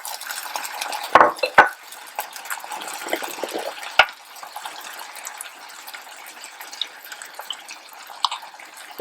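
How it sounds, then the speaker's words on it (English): A quart of water is poured into a pot for a beef broth pie filling with mushrooms and Worcestershire sauce, while several clanks of cookware ring out near the start and a soft wet wash runs underneath. "A quart of water for our beef broth."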